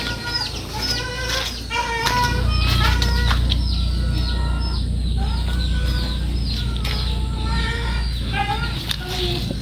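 Several chickens cluck and cackle in short bursts, some close, over a constant low hum, with occasional wing flaps.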